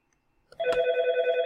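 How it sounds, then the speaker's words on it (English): A telephone rings with a steady electronic warble that starts abruptly after a quiet moment and then holds on, close and clear, with no talking. "You probably heard the telephone ringing."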